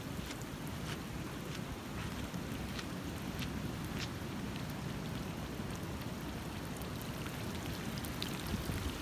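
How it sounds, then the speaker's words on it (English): Heavy rain pours steadily during Hurricane Florence flooding in Wilmington, a dense continuous roar with scattered drop hits, no voices. "this flood is only getting worse as the rain band has moved back in here in Wilmington"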